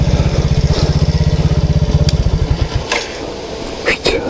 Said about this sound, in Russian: Вот такой мопед Альфа.